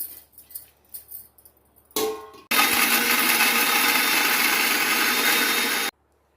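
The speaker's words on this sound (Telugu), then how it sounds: "ఇవన్నీ మిక్సీకి వేస్తానండి ఇప్పుడు" Mixer grinder blending coconut, ginger and green chillies: a few soft clatters, a brief spin-up, then a loud steady whirring grind for about three seconds before stopping abruptly.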